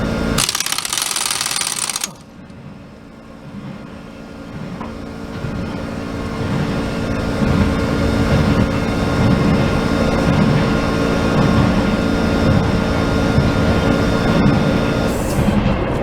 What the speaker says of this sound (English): Gotta wait for my little air compressor to catch up.